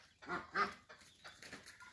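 A grey chicken clucks a few times close up, short soft bursts followed by quieter scratchy rustling.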